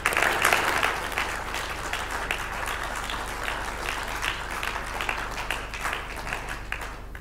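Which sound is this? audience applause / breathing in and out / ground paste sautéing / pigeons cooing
audience applause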